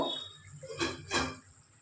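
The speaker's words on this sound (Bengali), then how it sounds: "কড়াইয়ের ঢাকাটা খুলে একবার দেখে নেব" A metal lid is lifted off a kadai of simmering stuffed-potato aloor dum, giving two quick clanking scrapes close by in an otherwise quiet kitchen.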